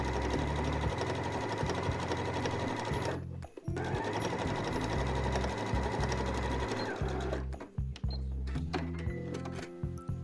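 A domestic sewing machine runs a quarter-inch seam on a fabric book sleeve, its fast mechanical needle rhythm whirring close and steady, pausing briefly twice before resuming at full speed.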